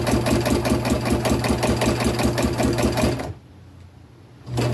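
A sewing machine fitted with a free-hand foot runs in a fast, steady mechanical chatter for about three seconds, stops briefly into near quiet, then starts up again, close and loud with no talk.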